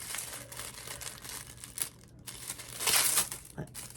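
Paper wrapping on a long, thin advent calendar gift, a pair of scissors, crinkles and rustles as it is pulled open, close and uneven with a louder crumpling burst near the end.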